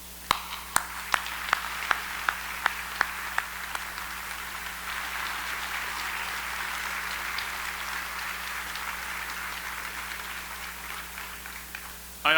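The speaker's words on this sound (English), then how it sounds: "I'd like to give them a round of applause." Audience applause at a utility cooperative's annual membership address as employees stand, beginning with a few sharp individual claps that quickly merge into a steady, moderately distant wash of clapping lasting several seconds before a louder sound at the end.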